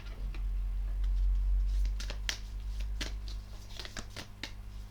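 A tarot card is laid over another during a reading: a few soft card slaps and papery flicks come close and quiet, over a low steady room hum, with no talk.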